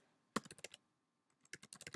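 Quick bursts of computer keyboard typing, a cluster of crisp key clicks, a pause of silence, then another rapid run of keystrokes, close and quiet.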